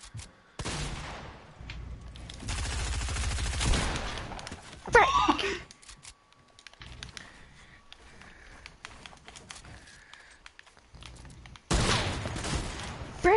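Sharp bursts of gunfire in a Zone Wars 1v1 video game match, loud clusters near the start and again near the end with quieter gaps between.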